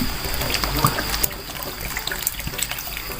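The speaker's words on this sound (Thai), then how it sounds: "เสร็จแล้วใส่กะทิลงไปเลยค่ะ ลงน้ำลงไปค่ะ" Water is poured into a cooking pot that already holds coconut milk, a steady close splashing and trickling that runs throughout without talking.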